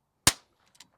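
A single sharp crack from a rimfire rifle with an 18-inch Bartlein barrel, loud and close, followed by a short decay and a couple of faint clicks.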